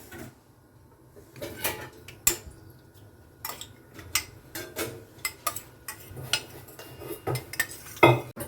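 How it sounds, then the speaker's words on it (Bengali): Yogurt (curd) being beaten in a bowl, with irregular clinks and scraping taps of a utensil against the sides that grow busier and louder toward the end, close and without talk. "দইটাকে ভালো করে ফেটিয়ে নেব।"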